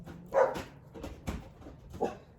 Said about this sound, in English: the dogs are barking at the people walking by